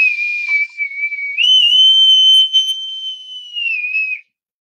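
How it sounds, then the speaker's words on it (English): A bosun's whistle blown alone for several seconds, a shrill steady tone that swoops upward partway through and holds before cutting off, close and loud. "And bosun's whistle, and we'll say goodbye"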